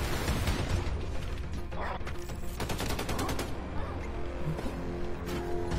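Submachine gun fire in Wolfenstein II: The New Colossus rattles in fast, loud bursts amid clanking mechanical game effects and background sound.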